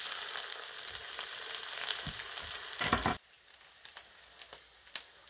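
Egg frying in a pan alongside bacon, a bright steady sizzle close by, interrupted by a short clatter as the egg is flipped, after which the sizzle drops to a quieter crackle with occasional pops.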